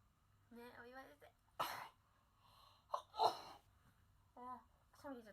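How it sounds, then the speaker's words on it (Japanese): A woman with a pollen allergy sneezes twice between bits of her own casual talk, the sneezes sharp and close against a quiet indoor background. "くしゃみ出ちゃった。"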